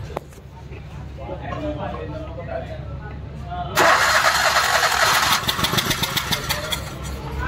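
A Maruti WagonR petrol engine cranks on its self-starter, a loud broadband churning burst that kicks in abruptly midway and runs on with pulsing beats, after a quieter stretch of background murmur and voices.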